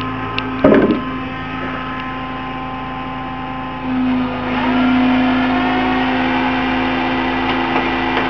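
A car engine running steadily in gear, a constant mid-level drone with a slight rise in pitch partway through after a brief knock, close and without talk.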